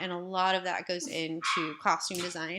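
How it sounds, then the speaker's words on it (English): A dog barks and yips in the background of an indoor home setting, partly masked by a person talking steadily in the foreground. "You hear my dog in the background"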